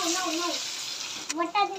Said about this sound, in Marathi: चला आता मी फ्राय करून घेते.